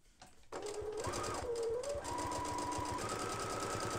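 A sewing machine stitches thick mini piping onto binding fabric. After a brief quiet start, its motor whirs steadily with a rapid, close needle clatter running on without a break.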